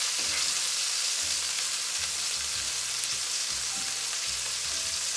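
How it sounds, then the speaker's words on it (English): Pork sears in a hot pan with a continuous, even sizzle and crackle, close and steady throughout with no voices. "I'm gonna pick it up and turn it to sear from the other side"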